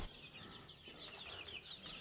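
Chickens on a chicken farm cluck softly and quickly in a brief, faint burst, with a low farmyard rumble beneath.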